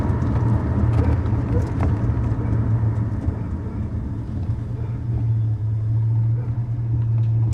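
A 1989 Ford Mustang Fox body with its original 5-liter engine and AOD automatic transmission, idling in a steady low rumble that holds a deep, even tone across the whole stretch, close and fairly loud.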